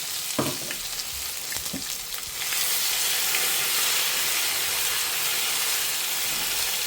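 Ground masala paste sauteing in hot oil for a quinoa methi bath, with a few spoon scrapes and clacks early on, then a loud, steady close sizzle and hiss, no voices.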